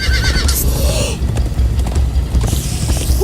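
In the Minecraft: Story Mode video game, a horse gives a loud, close whinny with galloping hoofbeats clip-clopping beneath it, followed by further neighing near the end.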